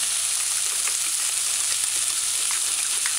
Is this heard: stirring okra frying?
yes